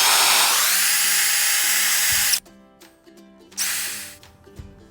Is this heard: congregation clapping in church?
no